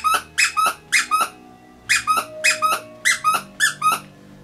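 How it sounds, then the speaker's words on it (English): Squeaky plush Halloween pumpkin dog toy with a muscle design, squeezed in quick pairs and triplets of bright, loud squeaks with short pauses between bursts, close and alone. "this Halloween pumpkin muscle plush squeaky dog toy"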